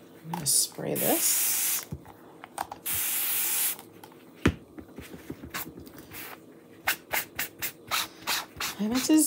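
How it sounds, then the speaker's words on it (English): An aerosol spray is sprayed onto a chalk craft project, St. Patrick's Day minis, in several close hissing bursts, followed by a series of short, rhythmic rubbing strokes. "All right, I'm going to spray this."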